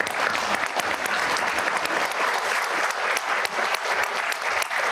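Sustained applause fills an event room as an audience claps for school staff at a Los Alamitos school district workshop, many hands beating steadily and loudly with sharp individual claps poking out of the wash.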